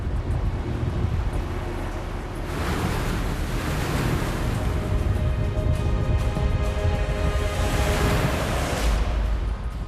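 Rough sea and strong wind around a fishing boat catching yellow croaker off Jeju: continuous heavy roar of waves and wind buffeting the microphone, with surging swells breaking and rushing loudly throughout, no voices.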